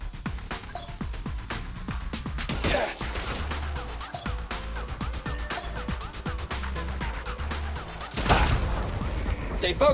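Rapid bursts of gunfire in the action video game Zenless Zone Zero, sharp repeated shots and impacts over game music, with a louder crash of blasts toward the end.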